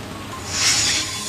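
Heavy rain pours over flooded Dubai streets, a steady, dense hiss that swells louder midway before easing back slightly.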